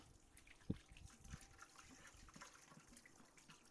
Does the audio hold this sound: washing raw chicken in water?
yes